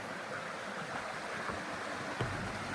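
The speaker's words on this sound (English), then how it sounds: "So this is the creek. It goes over the falls." A bush creek above Buddong Falls in New South Wales runs steadily toward the drop, making a constant, soft, broadband wash with no distinct splashes, heard alone at a low level.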